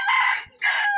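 A pure Japanese Shamo hen of the Tanaka Tsunami warrior line, medium-sized, kept in a small backyard, gives two loud, close, harmonic crowing calls separated by a brief gap.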